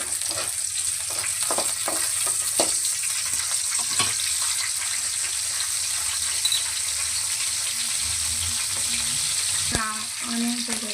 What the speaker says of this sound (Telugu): ఆనియన్స్ వేసేసుకున్నాం. ఇప్పుడు ఆనియన్స్ వేసేసుకున్నాము.